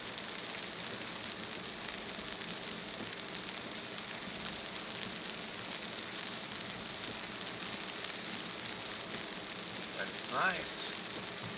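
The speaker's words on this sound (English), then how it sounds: "So it's raining harder." Heavy rain drums steadily on a car, a dense, even patter close by, with someone speaking briefly over it.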